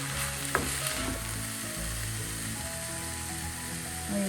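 Drumstick aviyal stirred in a pan gives a continuous low sizzle with a steady hum beneath and one brief scrape of the spoon, close and even, with no speech.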